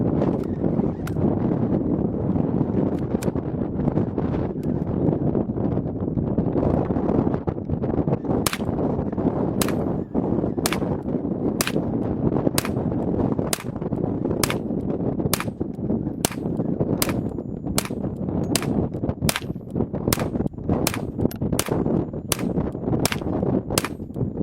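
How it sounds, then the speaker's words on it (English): An ISSC MK22 .22 LR pistol firing Remington Golden Bullet ammunition, emptying a full magazine in a rapid string of sharp, evenly spaced cracks over steady background noise. "first thing I'm shooting is Remington Golden Bullet."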